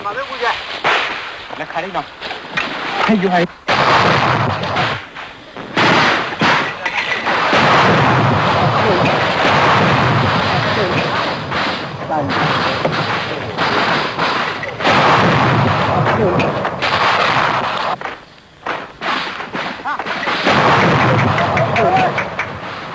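Bazooka blasts and gunfire crackle in jungle fighting between Karen forces and the Burmese army at Manerplaw, loud repeated bursts and booms continuing almost throughout, with a narrating voice speaking over them.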